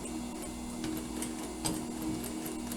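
A sewing machine stitching a reversible surgical cap, a steady low mechanical hum with rapid faint ticking of the needle running continuously for a few seconds, close and without voices.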